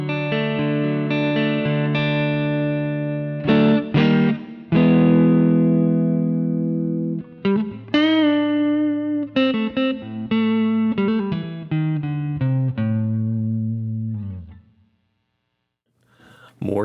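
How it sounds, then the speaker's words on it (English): Clean electric guitar tone played through the neck pickup of a modified beginner guitar, with strummed chords and picked single notes ringing out close and loud before fading to near silence at the end. "Let's start with some clean tones, starting with the neck pickup."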